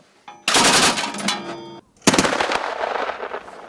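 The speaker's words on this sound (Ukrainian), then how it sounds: "Постріл!" Two bursts of heavy automatic gunfire from an armored vehicle during border guard weapons training, each a rapid roaring volley lasting over a second, close and loud with a short gap between them.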